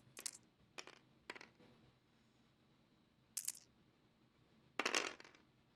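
Four dice clatter in separate bursts during an X-Wing tabletop miniatures game, sharp rattles spaced over several seconds with the last one longest, near and alone in a quiet room.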